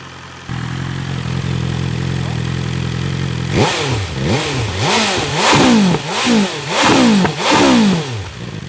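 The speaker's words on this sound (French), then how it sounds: "Ah ouais, on entend vraiment les clapets s'ouvrir." BMW S1000R motorcycle fitted with an Akrapovic exhaust, first idling steadily, then revved hard in a series of rising and falling surges with the exhaust valves opening, loud and close.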